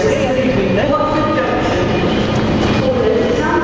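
A train rumbles steadily in a dense, loud mix, with people talking in the background throughout.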